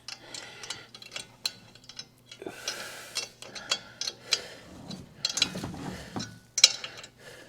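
A hand ratchet clicks while bolts are tightened during assembly of a Hiboy ECOM 14, giving irregular close clicking and rattling with some handling clatter and a low steady hum underneath.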